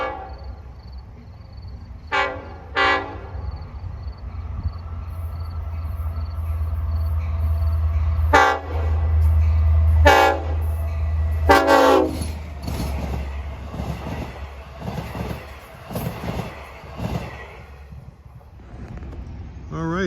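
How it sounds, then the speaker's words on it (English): Long Island Rail Road train led by DE30AC locomotive 423 sounds its K5LLA horn in several loud blasts, with short separated toots followed by longer ones, while the engine rumbles and wheels clatter past. "Train 80 en route from Long Island City to Patchogue with DE30AC 423 with the K5 LLA horn."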